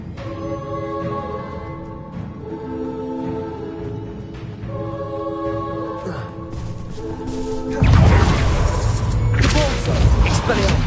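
A Bombarda spell blasting spider sacks in the video game Hogwarts Legacy. A sudden loud booming thud hits late, after a stretch of low rumbling and tonal game music.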